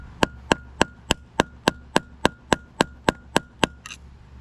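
Hammer strikes metal on the wheel spindle of a 1996 Craftsman LT1000 lawn tractor, about thirteen evenly spaced sharp, ringing blows in quick succession, close and loud with no speech.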